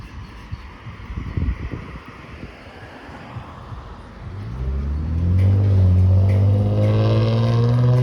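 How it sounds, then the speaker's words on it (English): A car with a noisy muffler approaches on Markham Road in Scarborough, Toronto, with a loud, droning exhaust rumble that grows steadily louder and stays heavy and low, with wind buffeting the microphone. "that car has a noisy muffler"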